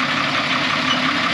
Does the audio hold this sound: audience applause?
no